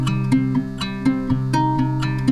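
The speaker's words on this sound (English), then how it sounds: "and then the dry guitar sounds like this." Dry guitar with no effects, played close and clear in a steady rhythmic pattern of picked notes and chords for a vintage-style sample, ending abruptly.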